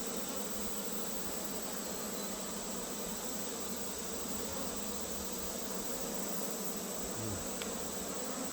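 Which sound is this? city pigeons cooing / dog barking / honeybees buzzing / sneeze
honeybees buzzing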